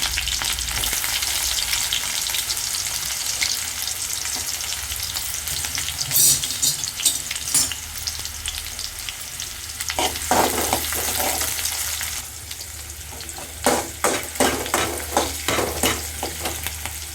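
Onions frying in oil after mustard seeds in a pan for kavala fish curry, a loud steady sizzle with bursts of rhythmic spatula scraping and stirring, close up with no voices.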